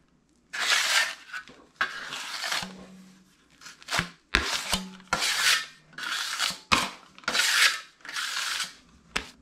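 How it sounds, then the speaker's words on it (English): Tinted drywall mud being mixed in a bucket, repeated scraping, rasping strokes in an irregular rhythm with brief pauses, close and moderately loud. "So I'm gonna carefully mix this up into my mud"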